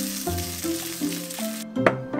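Oil sizzling in a frying pan, a steady crackling hiss that runs throughout, with a sustained melodic tone layered underneath.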